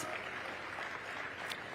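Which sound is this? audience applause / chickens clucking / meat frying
audience applause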